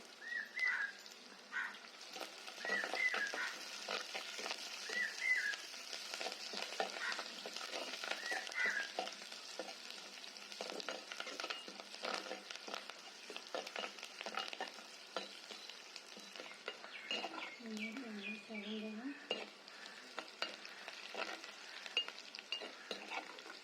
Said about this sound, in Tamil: போட்டு நன்றாக வதக்கவும்